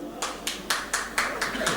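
Seven sharp hand claps in a steady rhythm at a poetry gathering, loud and close, over a faint background hum.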